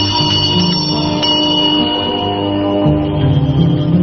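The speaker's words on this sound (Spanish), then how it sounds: "mientras hace sonar una pequeña campanilla" A small hand bell rings steadily and close, its bright sustained tones continuing for several seconds with no voices over it.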